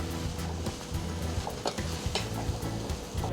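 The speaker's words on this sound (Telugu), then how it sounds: "ఒకసారి కలుపుకొని స్టవ్ ఆఫ్ చేసుకోవాలి" Chana chaat with potatoes being stirred in a pan makes a quick run of scraping, clinking strokes over a soft sizzle, close and steady for a few seconds.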